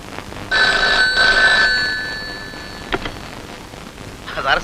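A telephone bell rings in two long bursts during a call, loud and close, with a brief noisy patch and faint voice-like sound afterward.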